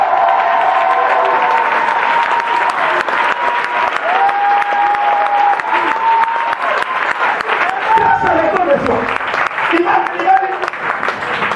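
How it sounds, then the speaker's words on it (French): A church congregation applauds and cheers during a worship service: loud, sustained crowd clapping for about eleven seconds, with raised voices and shouts mixed in and a speaker talking over the crowd. "une bonne acclamation à la poussée du Seigneur"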